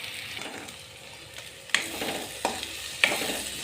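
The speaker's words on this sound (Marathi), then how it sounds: "आता ह्याला चांगलं मस्त परतून घेते" Sizzling in a thin pan as fried eggplant is stir-fried, with a few sharp scraping strokes of a spatula, steady frying hiss throughout.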